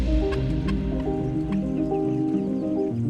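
Traditional heritage chickens raised on a farm in the United States cluck steadily over a low, constant barn hum, with several birds calling close by and no talking.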